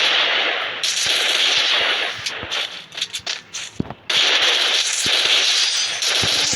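Desert Eagle pistol fire in the Free Fire video game, heard as a cluster of sharp, punchy shots in the middle of the clip. Loud crackling game noise fills the space before and after them.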